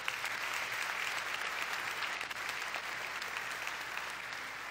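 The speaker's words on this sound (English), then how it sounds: "So y'all may want to applaud for all of these." Steady applause from a church congregation at a baby dedication fills the room, dense and even throughout with no one speaking over it.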